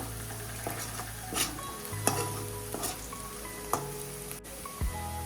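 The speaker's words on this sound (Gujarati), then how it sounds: "તેને પણ આપણે સારી રીતે તેલમાં સાંતળી લઈશું। વચ્ચે વચ્ચે હલાવતા જઈશું।" Chopped vegetables sautéing in oil for vagharelo rotlo, a soft steady sizzle with intermittent scrapes and taps of a spoon stirring in the pan, fairly close and quiet, with no talk.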